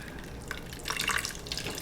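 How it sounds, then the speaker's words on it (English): Hot habanero pepper juice is poured gently through a fine mesh strainer, a soft trickling and dripping of liquid that swells briefly midway, quiet and without talk. "You're gonna use your fine mesh strainer here and just real gently pour that hot pepper juice in"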